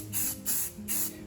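Three short aerosol spray bursts coat Master Chief armor boots in green satin paint, each hiss lasting a fraction of a second with brief pauses between, close and fairly loud, no talking.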